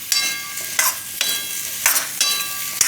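Chunks of pumpkin sizzle in hot ghee in a pan as a spoon scrapes and stirs them in quick, repeated strokes, close up and with no talking.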